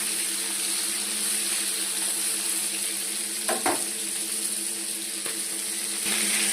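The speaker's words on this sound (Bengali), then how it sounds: "তেলটা গরম হয়ে গেছে, এবার মাছগুলো আমি ছেড়ে দেবো।" Prawns fry in hot oil with a steady, loud, close sizzling hiss and a few brief pops and clinks as they shift in the pan, with no voices.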